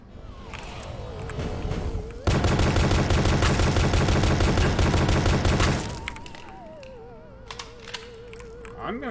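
Rapid automatic gunfire from a Pony Factory video game, part of the Dread X Collection, rattles in one dense burst lasting several seconds. Warbling electronic tones play before and after it.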